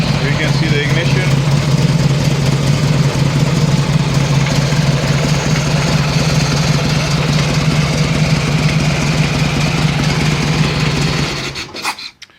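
Harley-Davidson motorcycle engine after a fuel-injection-to-carburetor conversion, running loud and close with a steady low throbbing idle, then cutting off abruptly near the end.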